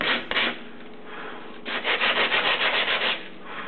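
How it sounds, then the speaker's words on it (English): A wooden propeller being hand-sanded where a section was cut away, smoothing out saw marks: steady back-and-forth rasping strokes, close and fairly loud, with a brief pause before a quicker run of rhythmic rubs. "Now sand the area you just cut away to take out the saw marks."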